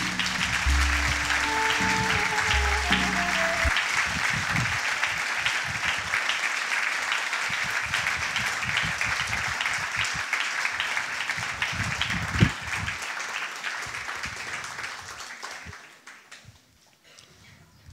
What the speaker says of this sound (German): wir bitten Sie um einen großartigen Applaus für unsere Künstlerinnen und Künstler